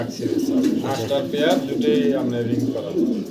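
Maxi racer pigeons coo in repeated low throaty phrases close by, with a voice talking over and between the calls.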